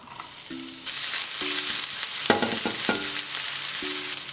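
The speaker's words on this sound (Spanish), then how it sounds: "Ponemos un poco de aceite en la sartén. Ponemos la cebolla." Onion frying in oil in a pan gives a steady, close sizzle, broken by a few sharp stirring scrapes and clatters. No one speaks.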